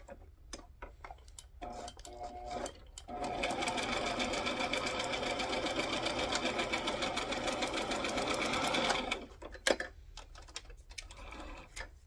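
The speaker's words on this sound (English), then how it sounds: "I'm feeling like I want a little bit of stitching on there." A sewing machine stitches a small card holder made from a cupcake liner and playing card, running in one steady loud stretch of about six seconds, with scattered clicks and handling noises before and after.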